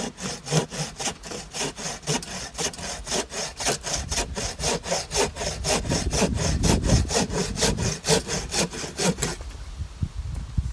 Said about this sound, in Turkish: Hem çekerken kesen hem iterken kesen testere.